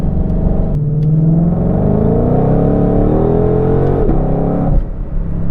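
A Ford Mustang Shelby sports car accelerates hard on a mountain road, its engine note climbing steadily in a loud, continuous rising roar that peaks, then drops off abruptly near the end.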